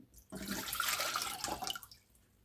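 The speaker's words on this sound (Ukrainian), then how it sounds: "Беру каструльку, сюди виливаю пів літри води," Half a liter of water pours into a saucepan in a kitchen, a steady splashing rush lasting about a second and a half before tapering off, close and fairly quiet with no talking.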